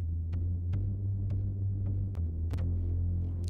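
A bass loop sample chosen to build a small airplane engine sound effect, heard as a steady low, throbbing hum with faint ticks on top.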